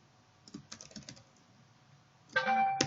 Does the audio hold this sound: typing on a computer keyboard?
yes